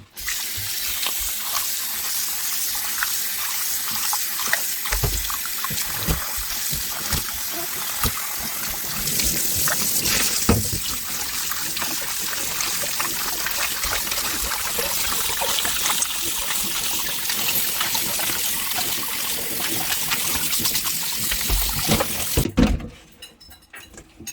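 Chicken gizzards being rinsed under a running kitchen tap, a steady loud gush of water splashing in the sink for over twenty seconds, with brief clatters, before the flow cuts off abruptly near the end.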